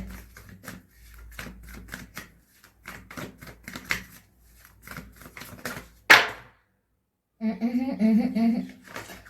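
Tarot cards being shuffled and handled, a run of quick close flicks and taps, then one sharp snap, a pause, and a dense riffling burst at the end.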